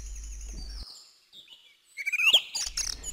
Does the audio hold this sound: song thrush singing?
yes